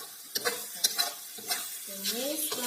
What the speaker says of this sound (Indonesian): Tumis lagi bumbunya.